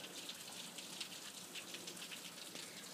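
Steady rain patters softly and evenly, a faint continuous hiss of drops with no voices.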